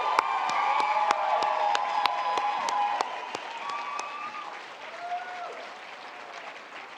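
Audience applause at a twentieth-anniversary gala, with scattered sharp claps and high whistles and cheers on top, loud at first and then tapering off to a quieter murmur.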